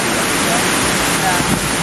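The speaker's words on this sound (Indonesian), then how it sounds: "Air terjun Weng Sani ya Pak? Yang ketiga." Bayang Sani waterfall, level three, roars as a steady, dense broadband rush of falling water, loud and close and unbroken throughout, with faint voices barely showing beneath it.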